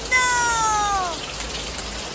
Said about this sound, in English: it's kind of heavy raining